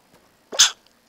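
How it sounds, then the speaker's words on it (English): One sharp sneeze, close and loud, with a faint intake of breath just before it and quiet afterwards. "I'm gonna sneeze, so everybody cover their ears."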